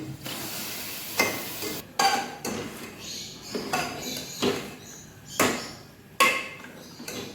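Beef with fat being tipped into a pot of whole spices such as cardamom and cumin for biryani, giving a steady sizzle broken by several sharp scraping stirs and clanks of a spoon against the pot, close and fairly loud.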